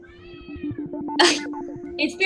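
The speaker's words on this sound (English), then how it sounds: "Is there a cat under our table?" A cat meows several times from under a table, rising and falling calls heard close by while people talk over and between the cries, with brief hissy bursts.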